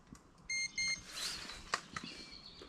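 Electronic bite alarm on a carp fishing rod at a lake at dusk, giving two short tonal beeps close together, followed by faint outdoor ambience and a few brief clicks.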